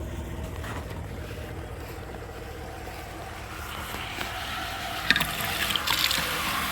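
Water rushes through a transfer hose into a tank in the bed of a 3/4-ton pickup truck, a steady broadband wash with a few sharper splashes and gurgles near the end.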